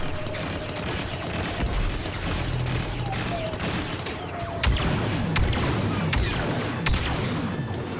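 Repeated blaster fire and explosive impacts in the video game Star Wars Battlefront 2, a busy stream of shots with sharper cracks and a heavier blast near the middle, loud and continuous.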